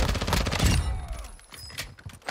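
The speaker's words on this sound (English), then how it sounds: "they're shooting at me." Enemy gunfire in the video game Warzone 2, a loud burst of several rapid shots at the start followed by sparser scattered shots and game noise.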